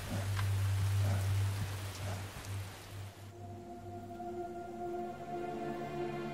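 Steady rain hisses during East Africa's long rainy season, a soft, even wash of drops with a low hum at first, and no voices.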